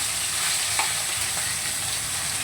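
Continuous loud sizzle of fish frying in oil in a pan, close and unbroken, with a couple of faint clicks of the utensil underneath.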